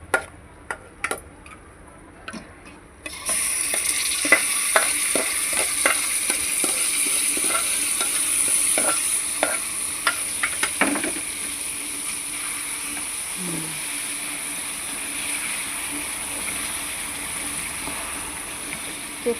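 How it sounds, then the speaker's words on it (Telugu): Tamarind broth going into a hot tempering and being stirred. A few quiet seconds with light taps, then a sudden loud, sustained sizzle with scattered spoon clicks and scrapes that slowly eases. "ఇప్పుడు లాస్ట్లో పులుసు యాడ్ చేద్దాం ఇంకా."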